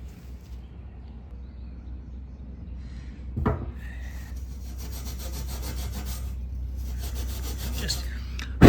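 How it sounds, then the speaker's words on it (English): Steel wool rubbed over the gas cap of a Generac 5500 generator: steady close scratchy scrubbing strokes that continue throughout, with one sharp knock partway and a louder hit at the end. "I'm gonna hit some steel wool on here, blow this out, clean it"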